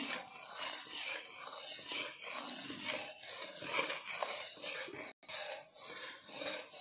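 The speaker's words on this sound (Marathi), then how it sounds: "कंटिन्यू हलवत राहायचं, म्हणजे आपलं खाली लागणार नाही" A spoon stirs and scrapes besan and oil in a pan for Mysore pak, producing a continuous, close rasping and scraping sound with a brief break near the end.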